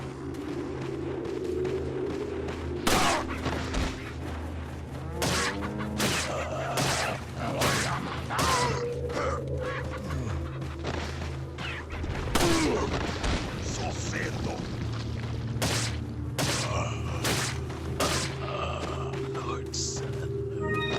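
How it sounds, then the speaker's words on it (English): Pistol shots fired in the video game Resident Evil 4, a string of sharp reports spread irregularly across the stretch over a dense, constant bed of game music and ambience. "Now let's use the damn fucking pistol."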